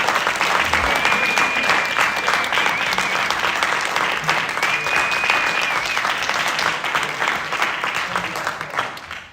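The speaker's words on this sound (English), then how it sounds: "Let's give the seniors a round of applause." A concert audience applauds the seniors after a spring student music performance, sustained dense clapping from a full room, with a faint whistle or cheer rising briefly above it.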